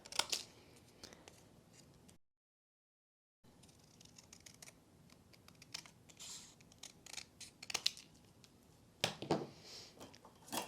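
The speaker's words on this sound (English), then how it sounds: "I'm using these longer scissors because that longer blade makes it a little bit easier to cut" Quiet snips and crisp slicing of long-bladed scissors cutting a straight section of paper for cardmaking, close by, in short irregular bursts with a brief silent gap early on.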